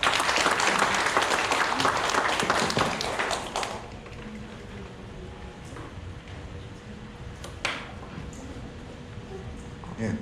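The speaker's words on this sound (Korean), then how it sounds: "우리 시장님 다시 한번 큰 박수 부탁드릴게요" A citizens' regional meeting audience in Hwaseong gives the city mayor a loud round of applause; dense clapping fills the first few seconds, then cuts off abruptly, leaving a quieter room with scattered taps and faint sounds.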